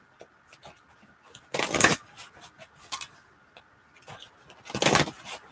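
A deck of tarot cards is shuffled in three distinct bursts of riffling, crisp and close, separated by quieter gaps with faint handling noise.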